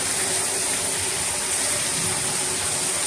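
Floodwater rushing during a heavy Las Vegas rainstorm, a continuous loud gushing roar of water, steady throughout with no talk.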